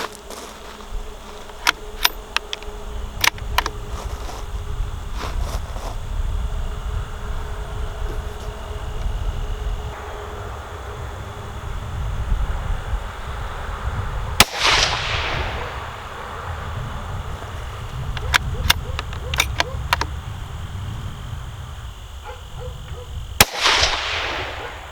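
Two sharp rifle reports from a CVLIFE Bear Swift scope tracking test ring out outdoors several seconds apart, each a loud crack with a trailing echo, over steady buzzing insects and wind.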